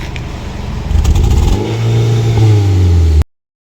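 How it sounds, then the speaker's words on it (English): A petrol car engine with a misfiring problem is revved hard with the accelerator, giving a loud, close, uneven roar that climbs and holds before cutting off abruptly. "As soon as you press the accelerator, you'll listen to this noise. It will miss."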